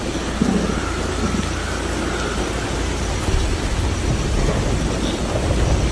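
Heavy rain pours loud and constant with low thunder rumbling beneath, a dense unbroken roar throughout with no voices.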